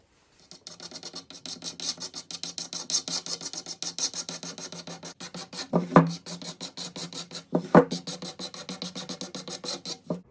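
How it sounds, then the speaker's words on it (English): Rhythmic rasping strokes of sandpaper cleaning up the bearing edges of a rare Tama Superstar split-lug 14x8 snare drum shell, steady back-and-forth scrubbing with two sharper, heavier passes near the end, no voices. "I'm going to just clean up the bearing edges"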